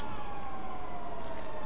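In GTA 5, a fire engine's siren sounds loud and steady, its wavering tone riding over a heavy truck engine rumble for a brief moment.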